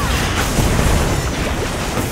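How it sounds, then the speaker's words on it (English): A turret blowing up in League of Legends Wild Rift, a loud, dense, roaring blast that fills the whole stretch with sustained rumbling noise, close and heavy with no clear gaps. "Enemy turret destroyed."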